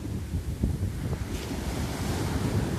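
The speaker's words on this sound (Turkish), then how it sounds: "sizi biraz dalganın sesini de dinleteyim" Sea waves washing onto the shore at Domuzini near Datça, a steady rushing surf with strong wind buffeting the microphone, continuous and fairly loud with no voices.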